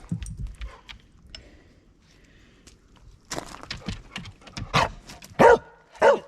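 A dog barks several times in short, irregular bursts, the loudest near the end, with quieter rustling and thumps in between.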